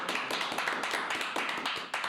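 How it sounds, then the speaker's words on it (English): A studio audience applauds at a television talk show, a dense, steady wash of many hands clapping at moderate distance, with no talking over it. "Give him a round of applause."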